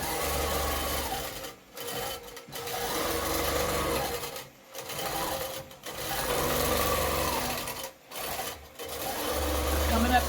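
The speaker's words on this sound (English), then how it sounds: "it's quilting just like we expected it to" Sewing machine stitching a quilting pattern on fabric, with steady mechanical whirring in several bursts separated by short pauses.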